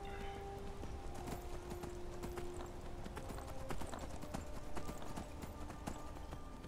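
Horse hooves in the video game Skyrim clop steadily in a fast, even rhythm as the mount runs, close and continuous across the whole stretch with faint game ambience underneath.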